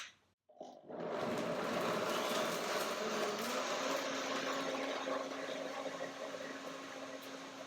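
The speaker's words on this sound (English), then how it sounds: "the blender is a German brand. It's called Revo Blend" A Revo Blend blender whirs loudly and steadily, blending pea soup with cashews, starting after a brief quiet moment and holding a dense, even motor roar with a slight change in pitch partway through.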